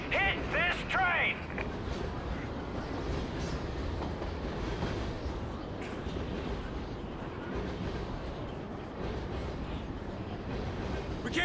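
A train rumbles past in the video game Call of Duty: Ghosts: a heavy, continuous rolling roar with a rhythmic rattle of wheels, close and loud. Voices talk over it and an alarm-like tone sounds at the start.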